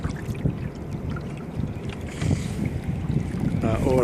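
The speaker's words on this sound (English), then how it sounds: "This is sailing with a 3D printed dagger board and rudder." A small sailboat fitted with a 3D printed dagger board and rudder, sailing upwind: steady wind buffeting the microphone over water wash and low rumble, loud and continuous throughout.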